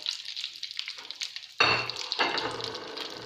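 Dry fruits roasting in a pan, light scraping and stirring at first, then a sudden dry crackling sizzle as they hit the hot surface and keep rattling under the spoon.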